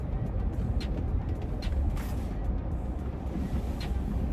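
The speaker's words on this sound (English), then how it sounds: "And there's a fucking semi truck behind me too." Near a service station exit, a semi truck rumbles close behind a 2013 Tesla Model S, a steady low engine drone with a few brief hissing bursts, no voices.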